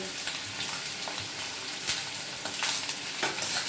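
Steady sizzling of garlic frying in hot oil in a wok, with occasional stirring scrapes, close and continuous with no voices.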